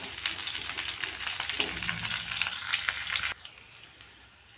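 Cauliflower and potato fry in a pan, giving a close, steady crackling sizzle with soft stirring scrapes that stops suddenly, leaving near silence.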